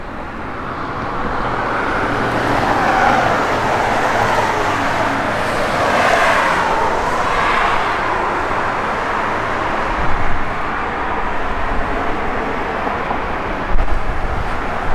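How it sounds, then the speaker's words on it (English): A 1969 Pontiac Firebird in bright red on new Hankook tires drives down the road, its engine a steady broad roar blended with tire and road noise, swelling slightly as it pulls along, with no talking. "it doesn't sound like it's got a crazy cam or anything in it, but this doggone thing runs."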